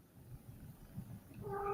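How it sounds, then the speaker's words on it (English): A pet cat purring close by in a quiet room, a low steady rumble that rises into a louder yelling cry at the end. "We hear your kitty purring in the background."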